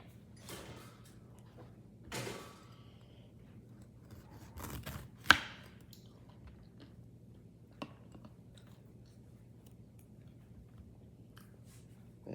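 A knife cuts into a jackfruit in a few sparse chopping thuds and crunches, close and moderately loud, separated by quiet pauses.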